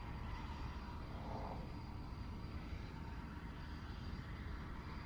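A military attack helicopter hovers at the Farnborough Airshow, a steady, distant rotor and engine roar that holds level throughout, blending with broad open-air rumble.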